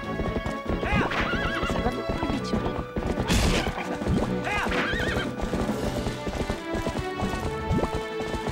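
Epona, the horse in the Zelda Twilight Princess video game, gallops with steady, loud clip-clop hoofbeats and repeated whinnies over a continuous game music bed.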